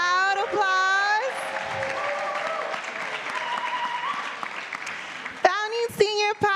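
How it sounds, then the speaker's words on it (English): A crowd applauding steadily for several seconds, with a loud voice speaking over the start and again as the clapping fades. "And then Dr. A.R. Bernard, can we get a loud applause?"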